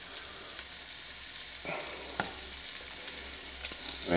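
Spicy Italian sausage with the casing removed sizzles steadily in a pan as it is pinched into small pieces and broken up while cooking; a close, continuous frying hiss with a few soft stirring clicks, no talking.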